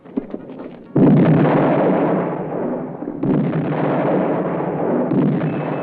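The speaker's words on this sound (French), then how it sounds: "La batterie du canon continue à tirer inexorablement" Heavy booming blasts from a cannon battery roll into a sustained rumbling roar, with a second blast renewing the thunder midway, loud and close.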